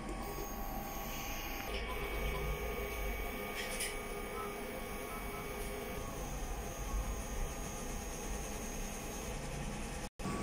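A sublimation printer running its head cleaning cycle: a continuous mechanical whir and hum, fairly quiet and steady, with one brief dropout near the end.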